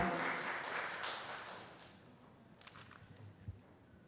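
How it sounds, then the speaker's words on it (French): A crowd applauds, the clapping loudest at first and then gradually fading away, with a few scattered claps and small knocks at the end. "on va l'accueillir par une bonne main d'applaudissements"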